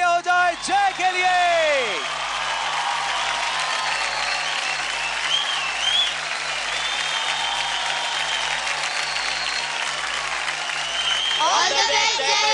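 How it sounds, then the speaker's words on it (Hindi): An audience at a televised kids' dance competition show claps loudly in a steady, sustained burst that fades out near the end, with a host's voice speaking before and after it. "तो जोरदार तालियां हो जाए जय के लिए।"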